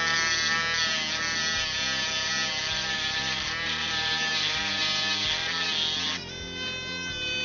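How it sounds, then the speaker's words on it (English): A small rotary grinder works on a trigger part from an Umarex Browning Buckmark airgun, giving a close, steady high-pitched whine that holds for several seconds, then drops to a lower, quieter tone near the end, with no voices. "Let's take our grinder and grind it a little bit."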